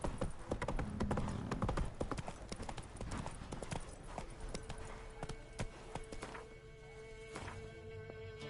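Horse hooves clip-clop in a steady, close rhythm of sharp taps over a continuous background hum, with the hoofbeats loudest early on and easing slightly toward the end.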